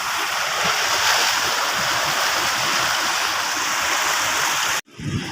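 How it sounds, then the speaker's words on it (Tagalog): Strong ocean waves break on Bagbag beach in Sual, a loud continuous roar of surf and wash that fills the scene before cutting off abruptly near the end. "Ayun grabe kasing alon doon"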